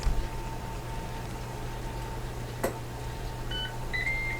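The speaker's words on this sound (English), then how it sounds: "or is it just going to beep?" A Ninja Foodi pressure cooker, cooking a whole chicken, gives a few short electronic beeps near the end, faint over a steady hum of room and appliance noise.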